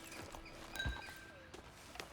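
Horse hooves clip-clop in the video game Red Dead Redemption 2, a few soft irregular steps close by over faint background game ambience.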